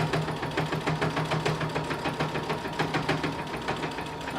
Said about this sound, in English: you're going to sew another line of top stitching parallel to what you just sewed